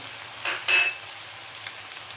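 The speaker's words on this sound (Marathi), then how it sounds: "हळद आणि मसाला 2 मिनिटं परतून घेऊया" Turmeric and ground masala with tomato sautéing in oil over low heat for a cluster bean curry; two short bursts of sizzle and stirring over a quiet background, with no talk.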